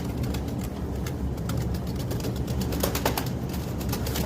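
A pigeon of the Drapa racing bloodline coos softly in low, repeated notes over a constant background hum with faint passing traffic.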